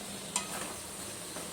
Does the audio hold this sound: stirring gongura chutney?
yes